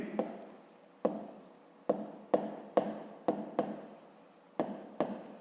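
A hand writes out a fifth-grade math solution, pen or chalk strokes landing in sharp separate taps and scrapes at an uneven pace, close and fairly quiet.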